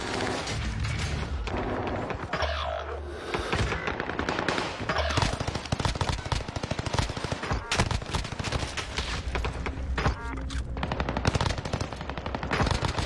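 Video game gunfire crackles in rapid, dense bursts of shots, loud and nearly continuous, with heavier thumps mixed in and brief lulls between volleys.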